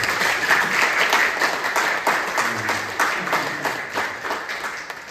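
A church congregation applauding to welcome a returning member: brisk, rhythmic clapping from many hands, loud at first and gradually thinning, with faint voices mixed in.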